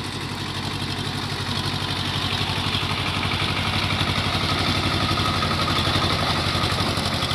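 A small Swaraj 724 XM Orchard diesel tractor engine runs steadily throughout while churning mud, a low rhythmic diesel chug with clattering, close and loud with no talking.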